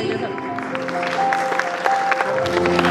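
Parents clapping at a school prize distribution ceremony, a steady continuous patter of many hands filling the room, with sustained tonal music or hum running underneath throughout.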